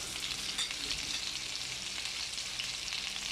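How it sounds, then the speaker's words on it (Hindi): Chicken frying in a pan with garlic for pasta in white sauce, a continuous close hiss and crackle of sizzling with faint stirring, steady throughout and without voices. "अब हम इसमें ऐड करेंगे चिकन, और इसको हम तब तक फ्राई करेंगे जब तक कि ये वाइट कलर का नहीं हो जाता।"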